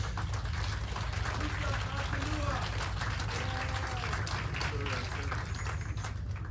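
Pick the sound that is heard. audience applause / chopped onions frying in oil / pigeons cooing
audience applause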